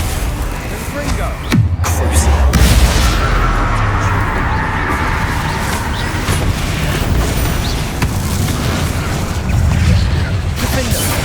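A Confringo fire blast spell from Hogwarts Legacy goes off with a heavy booming burst near the start, followed by dense rumbling game effects and a steady wash of background sound.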